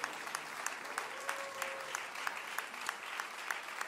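A church congregation claps for people returning to their seats after a service, a steady patter of many hands at a moderate, slightly distant level with a soft tone sounding briefly.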